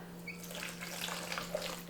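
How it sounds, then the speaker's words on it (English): Cooking water poured from a container into a blender for a sauce, a soft, steady trickle and splash lasting about two seconds over a faint background hum, with no voices. "now we're going to add some water, the cooking water"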